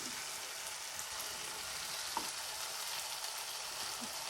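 Spice powders such as coriander, chilli and garam masala sautéing in hot oil for a Tamil vegetable salna, a steady close sizzle and fry hiss throughout with faint stirring, no talking.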